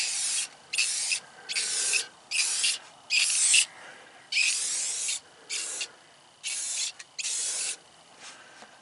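Repeated bursts of aerosol spray paint, about nine short hissing sprays of uneven length separated by brief pauses, close and fairly loud with no talk, painting the wear parts of a John Deere 3710 moldboard plow.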